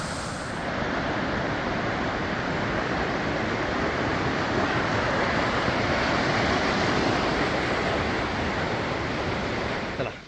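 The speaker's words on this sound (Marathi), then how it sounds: "आणि काय फोर्स आहे पाण्याला" A forceful stream rushes beneath a footbridge on the Andharban trail, making a loud, constant roar of churning water that barely varies from start to finish.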